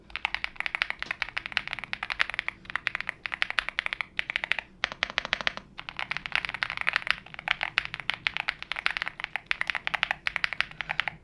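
Fast continuous typing on a YUNZII AL80 mechanical keyboard recorded up close, dense rattling clicks with a couple of short pauses, no speech.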